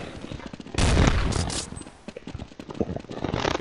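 Gunfire in Counter-Strike 1.6 rattles out in a loud, sustained burst of rapid shots, then scattered weapon shots and footstep-like clatter continue, close and punchy throughout.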